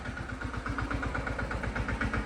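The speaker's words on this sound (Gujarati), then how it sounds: "વિજયભાઈ ટ્રેક્ટર રાખે છે" Tractor engine idling on a farm while a load is being stacked, a steady low rhythmic chug with regular firing pulses, close and continuous with no talk.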